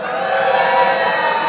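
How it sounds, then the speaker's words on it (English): An audience at an Indian cultural society's annual event cheers and whoops for second and third grade performers, a short, dense burst of crowd noise. "Come on, we need more cheering for our second and third graders."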